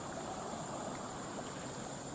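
Johnson Creek flows beneath a century-old five-truss bridge on the original road near Route 66 in Spencer, Missouri, giving a steady, even rush of water with no voices.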